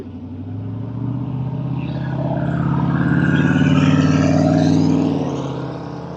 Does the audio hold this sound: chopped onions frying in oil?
no